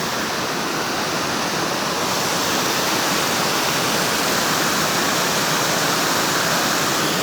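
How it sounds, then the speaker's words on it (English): Water pours steadily over a man-made waterfall at a mill, a loud, continuous rushing roar with no pauses. "This is the waterfall."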